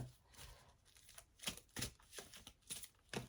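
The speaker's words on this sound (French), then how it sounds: "Je sais que vous aimez bien que je mélange les cartes" Amethyst Love Oracle cards are shuffled by hand in a quiet room, soft riffling bursts repeating in a fairly regular rhythm, close and gentle.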